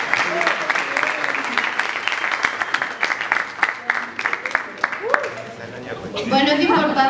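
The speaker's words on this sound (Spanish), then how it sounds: "Un aplauso, por favor." An audience applauds steadily at a school Model UN award ceremony, the dense clapping continuing under a voice that speaks over it before the applause thins out.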